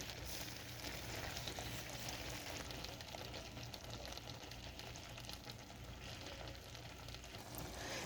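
Steak, peppers and onions cook slowly in a pan over low-medium heat, giving a quiet, even, continuous sizzle with no stirring bursts or voices.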